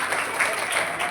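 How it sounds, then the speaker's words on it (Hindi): Brief burst of dense audience clapping at a Shrimad Bhagavat Katha religious discourse gathering in Sector 17, Panchkula, steady and fairly loud for about a second. "जोरदार ताली सुल्तान भाई के लिए।"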